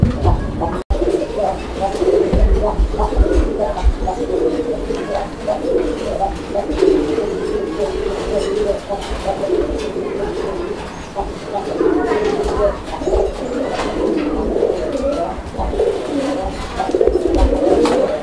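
A male pigeon coos in repeated rhythmic bursts, close and loud, over about eighteen seconds, with people talking nearby.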